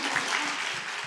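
A church congregation at a Sunday worship service claps together, a dense burst of applause that fills the moment without any talking.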